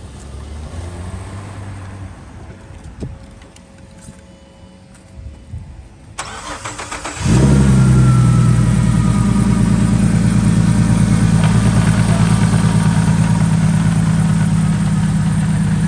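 A big turbocharged car engine cranks and fires after several seconds of quiet shuffling, then settles into a loud, deep, steady idle close by that lasts to the end.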